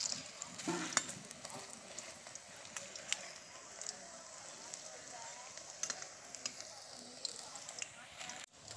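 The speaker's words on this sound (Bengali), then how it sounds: "বড়াগুলো ভাজার সময় বন্ধুরা মিডিয়াম আঁচে ভাজতে হবে" Cauliflower and shrimp fritters sizzle and crackle steadily in hot oil over medium heat, with occasional clinks of a utensil stirring and turning them close by.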